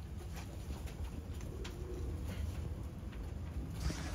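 A pet dönek pigeon coos softly and intermittently at a distance over steady outdoor background noise, with no voices.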